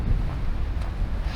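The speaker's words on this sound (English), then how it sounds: "So, it's a little bit windy today." Wind buffets an outdoor microphone at Harpers Ferry, giving a brief, heavy low rumble in uneven gusts with no voices.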